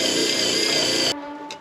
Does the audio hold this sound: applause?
no